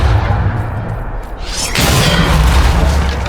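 A Depulso force-push spell cast in Hogwarts Legacy, a loud booming whoosh that surges and holds as a dense rumbling blast against constant game noise.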